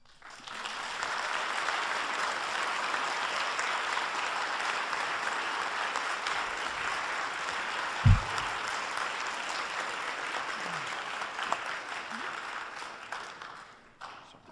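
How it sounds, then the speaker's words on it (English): An audience applauds after a law lecture on statutory rape cases: a dense, sustained wash of many hands clapping that swells quickly, holds steady for over ten seconds, then fades away. "I think she deserves another round of applause."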